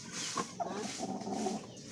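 Soft, low clucking from a mother hen tucking her eggs back under her with her beak, faint and close in a quiet setting.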